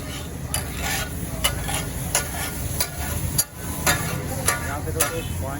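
Chicken taka tak frying in a pan: sizzling under a rhythmic series of clanking strokes as it is stirred and chopped, roughly one hit every half second, fairly close, with a brief dip near the middle.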